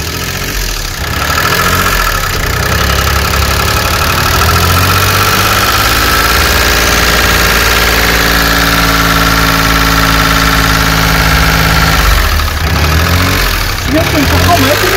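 Gas-powered cogenerator engine running steadily at about 2000 rpm, a loud continuous mid-pitched drone with harmonic hum and slight mechanical knock, holding constant throughout with no one talking.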